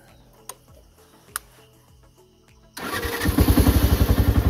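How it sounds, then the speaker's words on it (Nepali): A few faint ticks and clicks, then a motorcycle engine starts up abruptly and settles into a loud, close, rhythmic idle as it warms up before an off-road ride on a rough hill road. "त्यो झन् पहिला बाइकलाई तताइदिए के"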